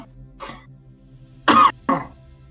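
A person clears their throat once softly, then coughs twice in quick succession. The coughs are close and fairly loud against a quiet background.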